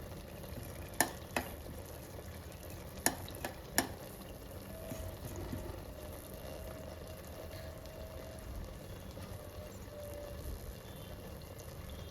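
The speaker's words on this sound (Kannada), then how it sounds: "ಆ ಎಣ್ಣೆ ಮಧ್ಯ ನಾನು ಸಾಸಿವೆನ ಅಲ್ಲೇ ಹಾಕ್ತಾಯಿದ್ದೀನಿ" Mustard seeds sizzle in hot oil with a steady, close frying hiss, broken early on by a few sharp clinks and pops, with no talking.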